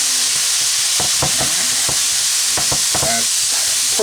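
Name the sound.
ground beef frying in a Presto electric skillet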